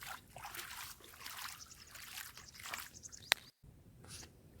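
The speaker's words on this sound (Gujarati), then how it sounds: "જો ધોરિયા પાણી જાય સરસ મજાનું." Water pumped by a farm motor runs along an irrigation channel to water a coriander field with a faint, uneven trickling and gurgling, broken by a sharp click near the end.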